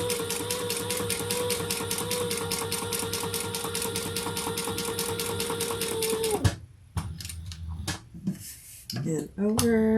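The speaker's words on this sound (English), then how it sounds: "Now we're going to stitch up and down and around." A sewing machine stitches a crossbody bag in a fast, steady, close-up run that stops partway through, followed by quieter handling sounds and a person speaking.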